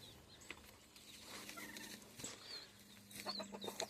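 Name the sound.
roosters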